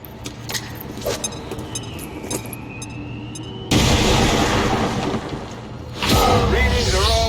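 A grenade detonates in the video game XCOM 2: War of the Chosen: a sudden loud, sustained blast cuts into the quieter game ambience, followed a couple of seconds later by a second surge of rumbling noise.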